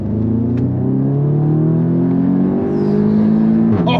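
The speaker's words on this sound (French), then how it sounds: "c'est un 2 litres TFSI ABT de 400 chevaux" Audi S3 with an ABT-tuned 2-litre TFSI engine making 400 hp, a loud close engine note that climbs steadily in pitch through a rev, then drops sharply near the end.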